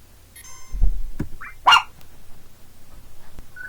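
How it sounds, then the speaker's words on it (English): A dog barks a few times nearby, short separate bursts with quiet gaps and faint household noises in between. "that was my dog barking"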